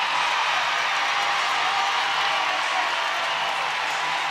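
Steady, dense crowd noise from spectators cheering at a women's college gymnastics meet between Oregon State and San Jose State, a continuous broad roar that holds at a constant level throughout.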